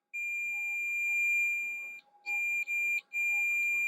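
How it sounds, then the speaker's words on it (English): Electronic beeping from a chip connection during an X Station ODE installation: a steady high-pitched tone with faint upper harmonics and a soft low hum beneath, held for about two seconds, then several shorter beeps separated by brief gaps, close and clear. "So now it's beeping. Now it's making a connection."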